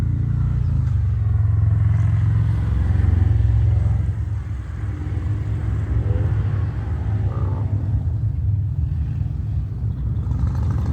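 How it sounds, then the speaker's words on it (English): Motorbikes rumble through town during the Wharf Rat Rally, a steady low engine drone that swells loudest in the first few seconds, then settles into a continuous mid-distance roar with passing vehicle noise and no talk. "Wharf Rat Rally means motorbikes here all weekend long."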